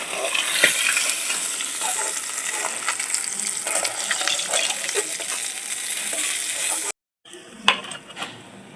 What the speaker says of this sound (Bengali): মাছগুলো আমার সব ভাজা হয়ে গেল আমি এখন তুলে নিচ্ছি